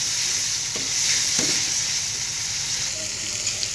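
Radhuni ready-mix biryani spice fries in hot oil while being stirred, giving a loud, steady sizzle close up with a couple of brief scraping strokes from the spoon.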